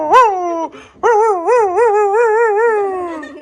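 A small dog, likely a toy or puppy, gives two loud, close whining yelps; the second is long and wavering, howl-like, and there is no talk.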